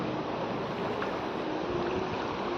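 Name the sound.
water overflowing from Chandreshwar Mahadev lake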